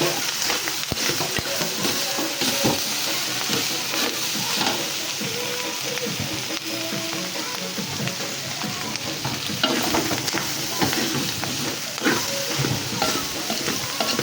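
Pork sisig being sautéed in a pan, a continuous bright sizzle with stirring scrapes throughout, close and steady, with faint occasional talk.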